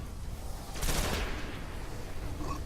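Gunfire from the Destiny shooter on PS3, a rapid burst of shots aimed at an enemy's head, peaking sharply near the one-second mark over a constant background of battle noise.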